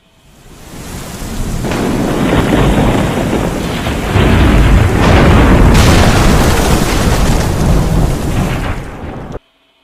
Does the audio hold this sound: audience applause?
no